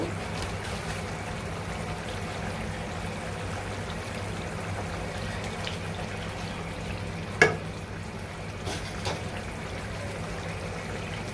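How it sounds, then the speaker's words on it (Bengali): Ground spice paste, including mace, fries in a pot with a steady low sizzle while being stirred for chicken basmati pilau. A single sharp utensil clink stands out partway through. "এখন খুব ভালো করে সবগুলো বাটা মশলা মিক্স করে নিচ্ছি এখন খুব ভালো করে কষিয়ে নিব"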